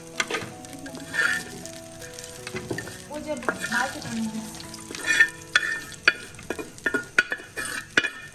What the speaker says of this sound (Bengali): সেজন্য মাছটা ভেজে নিচ্ছি